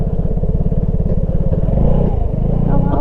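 A motorcycle rides over a rough, rain-slick road, its engine putting out a steady close chugging pulse with rattles and clatter from the bumpy surface, the engine note shifting slightly near the end.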